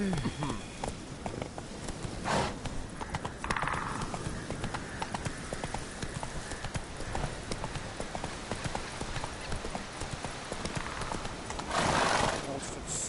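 Geralt's horse Roach in The Witcher 3 clip-clops at a steady trot, hooves close and rhythmic, with a couple of neighs and snorts breaking through while someone talks throughout.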